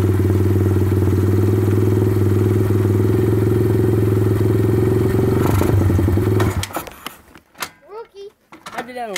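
A dirt bike engine idles steadily and loudly up close, then cuts off, leaving someone talking and clattering.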